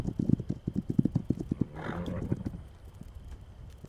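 Horse hooves clip-clop in a quick rhythmic series inside the video game This Land Is My Land, followed by a short neigh or whinny near the end; the sound is fairly close and clear, with no talk over it.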